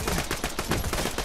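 Rapid gunfire in the video game Borderlands 2, a dense stream of sharp, close shots fired in quick succession with no pauses across the whole moment.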